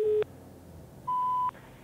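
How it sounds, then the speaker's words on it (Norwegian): Two steady electronic beep tones from a phone answering service marking the start of a voicemail recording: a lower tone of about a quarter second, then after a pause a longer, higher tone of roughly half a second, clear and alone. "Legg igjen en liten melding, straks du får en pipetone."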